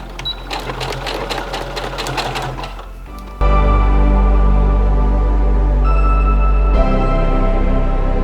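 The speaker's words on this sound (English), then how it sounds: "So I'm going to stitch here, like not even half a centimeter." A sewing machine stitching close to a seam on fabric for a headscarf, a loud rapid mechanical whir in a fast run, then a brief pause before a steady hum.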